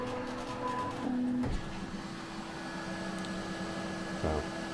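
A 3D printer works on a dice tower, steadily whirring with a thin whine and faint motor tones; a brief thump comes early, and no one speaks.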